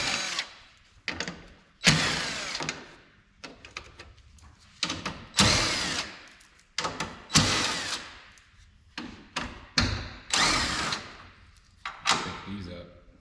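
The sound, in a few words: power drill removing 10 mm bolts from Cadillac SRX headlight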